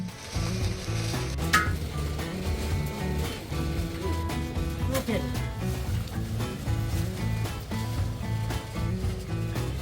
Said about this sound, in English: In the initial frying stage, the raw rice is introduced into the frying pan.